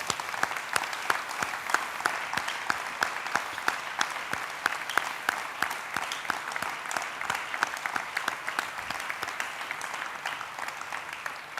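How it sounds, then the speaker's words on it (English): A large gathering applauds the contributors to a building construction project at a felicitation ceremony in Prasanthi, with sustained, even clapping from many hands that continues at moderate volume for over ten seconds with no voices. "So please join me in a warm hand of applause for all the people"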